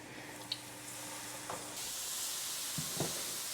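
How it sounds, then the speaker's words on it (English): Homemade kettle chips deep fry in hot oil, a steady soft sizzle with a few brief clinks and stirring sounds, close and fairly quiet, with no talking. "Okay, so we're gonna start frying some chips."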